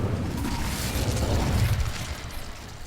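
A Hogwarts Legacy Incendio fire spell bursts with a loud, low rumbling whoosh that swells for about two seconds and then trails off, with no voices.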